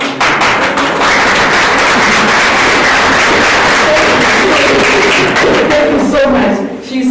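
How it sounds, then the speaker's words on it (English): An audience claps at a university white coat ceremony, dense sustained applause filling the room, loud and continuous with a voice briefly heard. "Please clap your hand and please stand."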